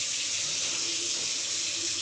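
Water runs steadily from a kitchen tap in an L-shaped kitchen with granite counters, a continuous close hiss of flowing water with no voices.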